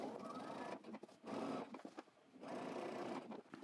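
A sewing machine stitches down a trench coat welt in two bursts of steady running whir, with a quiet pause between them where the motor stops and cloth is handled nearby.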